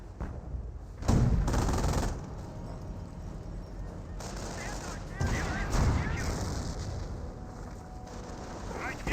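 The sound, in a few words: gunfire on squads in Company of Heroes video game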